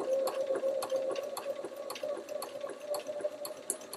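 A sewing machine stitches a quilt block with a fast, even mechanical whirr and steady needle ticks, running continuously at moderate volume without talking.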